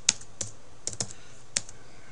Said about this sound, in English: Don't know why I typed that in twice